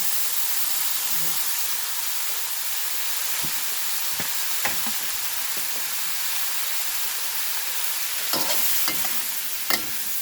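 Bean sprouts and pork stir-fry in a hot pan with a constant, even sizzling hiss, broken by a few sharp scrapes and clicks of a utensil against the pan, close and moderately loud.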